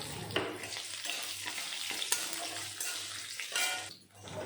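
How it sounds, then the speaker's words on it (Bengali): Chopped ginger frying with dal and dry chillies in oil gives a loud, dense crackling sizzle broken by repeated stirring scrapes, briefly dipping near the end. "সব কিছু ভাজার পরে দিয়ে দিলাম কেটে রাখা আদা"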